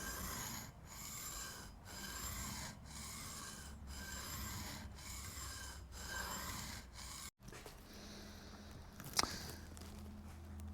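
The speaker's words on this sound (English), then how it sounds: "The stone cuts coming and going, and I found that it's about twice as fast if I'll cut on the push and on the pull stroke." A long bent gouge rubbed back and forth on a sharpening stone, cutting on both push and pull strokes, giving a regular rasping rhythm of about one stroke per second, then a short pause and some scraping handling noise.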